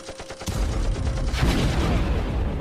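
Rifle volley in a stop-motion battle scene, a dense rattling burst of overlapping shots that turns into a sustained rumbling roar of gunfire over a few seconds.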